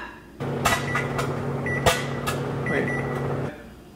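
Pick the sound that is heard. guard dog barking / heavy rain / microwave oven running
microwave oven running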